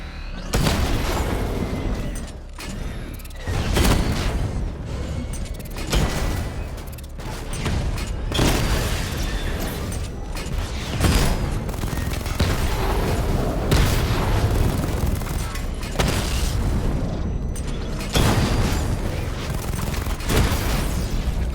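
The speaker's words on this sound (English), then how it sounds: "Charge up missile barrage to level 2 and destroy 4 active targets to complete diagnostic test." A Batman video game missile barrage fires at targets, with rapid, dense booming explosions and bursts rolling on continuously, loud and close for the whole stretch.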